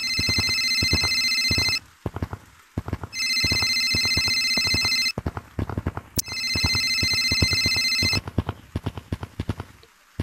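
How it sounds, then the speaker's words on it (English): Electronic telephone ringing in a Gorilla Tag movie: three long bursts of bright warbling ring with gaps between, loud and close, over a steady patter of clip-clop-like thumps running through the whole clip. "I hear the phone ringing."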